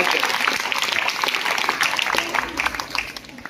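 Audience applause at a school event in Malegaon, a dense wash of many hands clapping steadily throughout, fairly loud and close, tapering slightly toward the end.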